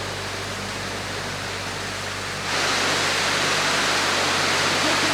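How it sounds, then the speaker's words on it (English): Heavy rain pours down steadily outdoors beside a gravel driveway, a broad continuous hiss that suddenly grows louder and denser partway through, with no talking. "Oh, it's pouring now."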